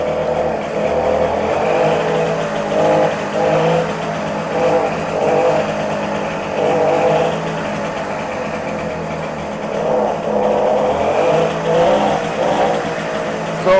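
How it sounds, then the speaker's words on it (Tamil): A vintage vehicle engine, started with its decompressor lever, runs steadily nearby with repeated swells of revving over a constant mechanical drone, with no talk. "டீகம்ப்ரஸர் லிவரை பிடிச்சிட்டு ரேவ் பண்ணிவிட்டு இதை விட்டுறணும். ஸோ வெஹிக்கிள் ஸ்டார்ட் ஆயிடும்."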